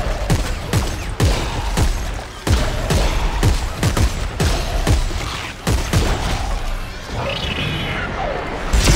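Rapid gunfire in Dead Space 3 aimed at creatures, a steady string of loud, close shots roughly every half second, with crashing impacts under the barrage.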